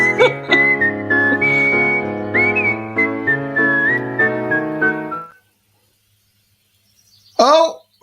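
Someone whistles a melody with a backing of sustained tones for about five seconds, then silence, followed by a short voiced burst near the end.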